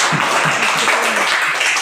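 Hands clapping in a classroom during a lesson on zakat, a steady dense patter of applause from a group of students filling the short moment at close range.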